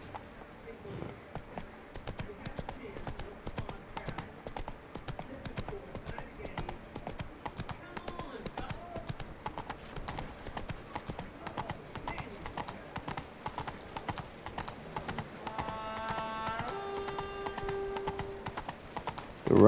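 A horse gallops through a city in The Witcher 3 video game, its hooves drumming in a fast, steady rhythm for the whole stretch, while a voice talks over parts of it and game tones chime near the end.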